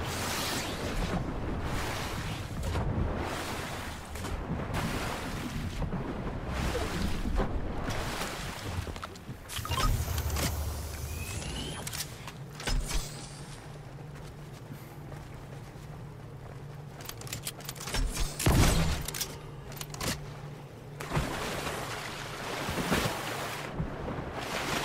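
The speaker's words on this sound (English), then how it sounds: "Take the water. Ride the waves." Ocean waves and rushing water in the video game Fortnite wash continuously while riding along the water, with windy surf noise and occasional splashes and bumps over about 25 seconds.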